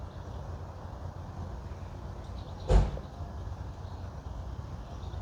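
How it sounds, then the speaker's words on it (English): A single muffled thud of a door closing, brief and fairly close, over a steady low engine rumble. "The door just shut."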